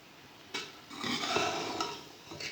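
Biryani being stirred and mixed in a pot, with scraping and clinking of a spoon against metal in bursts over about two seconds, close and moderately loud, no talking.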